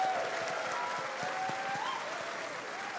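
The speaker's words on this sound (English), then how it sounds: "We're gonna give a little round of applause for our character artists here as well" Audience applause at TennoCon 2025, a live gaming convention, for the character artists: steady clapping from a large crowd throughout, moderately loud with slight fading toward the end.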